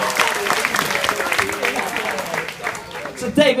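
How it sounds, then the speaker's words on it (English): An audience at a company dinner-and-dance party applauds a game contestant, a brief patter of clapping mixed with talk and crowd noise. "give him a round of applause for your first contestant."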